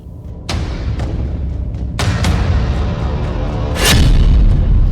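Missile strikes hit Sukkur airbase, wrecking runway and hangars: a series of heavy booming blasts, one at the start and more about two and four seconds in, each followed by a lingering roaring rumble, loud and close.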